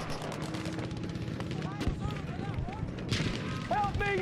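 Gunfire in a Battlefield V multiplayer match: bursts of rifle and automatic fire with distant explosions and battle noise. A player's voice talks over the steady background clamor.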